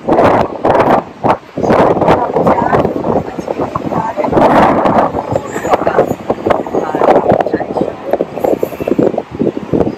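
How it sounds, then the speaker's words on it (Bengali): Strong seaside wind buffets a phone microphone on a cloudy day by the sea, a loud continuous rumbling roar with gusty surges and dips throughout. "এত হাওয়া যে ফোনটা নড়ে যাচ্ছে, এতই হাওয়া"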